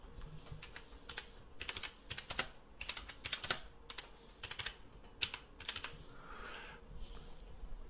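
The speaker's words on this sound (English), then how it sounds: "click new vendor and type in the company field Lana the lawyer." Irregular clicks and taps of typing on a computer keyboard, close and fairly quiet, in short clustered runs with small pauses and no talk.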